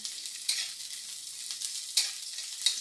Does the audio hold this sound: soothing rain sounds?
no